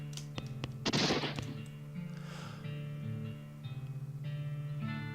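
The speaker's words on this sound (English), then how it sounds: "Goblin seated desk repeatedly firing his pistol at that pie safe." A seated goblin in West of Loathing fires his pistol repeatedly at a pie safe: a series of sharp shots, one heavy burst near the start, followed by quieter repeated pops over a droning musical background.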